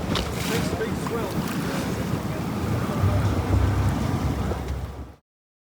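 Ocean waves and wind on a shore after strong northeast winds and a big swell, a dense, steady roar of surf and gusting wind buffeting the microphone, continuous and loud before cutting off.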